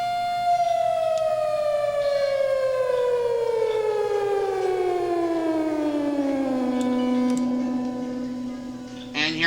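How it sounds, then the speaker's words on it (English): A synthesized tornado siren built in FL Studio wails loudly, one long tone gliding slowly downward in pitch and then leveling off before it cuts out. "That's how you make a tornado siren."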